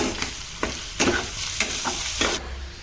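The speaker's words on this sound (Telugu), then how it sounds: "మనకి తగినంత కారం పొడి వేసుకొని దీన్ని ఫ్రై చేసుకుందాం." Chicken dusted with chili powder fries in a pan, a steady hiss broken by several sharp scraping stirs of a spatula, close and fairly loud, with no talking.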